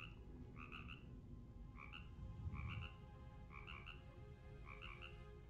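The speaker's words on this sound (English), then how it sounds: "We got a little froggy talking all kinds of crazy stuff to me" Repeated frog croaks in a fantasy video game: paired, chirpy calls recurring every second or so in a steady rhythm over a low ambient rumble, with no talking.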